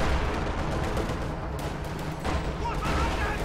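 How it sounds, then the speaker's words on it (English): Artillery barrage in a WWII strategy game battle, continuous dense rumble of shell impacts and gunfire filling the whole stretch, loud and sustained with overlapping blasts, a voice talking over it. "the zeroing artillery just got called in over here as well"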